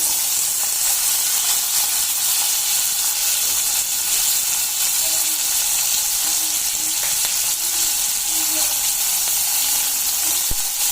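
Chopped onion and tomato frying in hot oil with cumin and mustard seeds in a pan for a bitter gourd sabji give a steady, loud, close sizzle with crackling hiss throughout.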